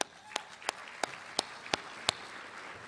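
Clapping at a breakfast event in praise of Mayor Pike: seven crisp, evenly spaced claps at a slow, steady rhythm over a faint room murmur.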